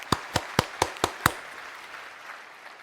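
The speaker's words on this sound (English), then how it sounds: "Applause." Six sharp claps in a steady rhythm, close and fairly loud, then quiet room tone; a single person clapping for an effort in a Path of Exile 2 boss fight rather than a full crowd.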